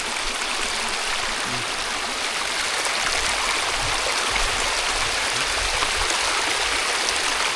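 Steady rushing of water pouring over the rocks of a rocky road, a continuous loud torrent with no voices.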